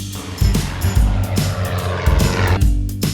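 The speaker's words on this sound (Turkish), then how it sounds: "Bu bir uçak. Uçak böyle ses çıkarır." An airplane engine roars with a droning buzz that surges and fades in repeated waves, loud and close, with no voices.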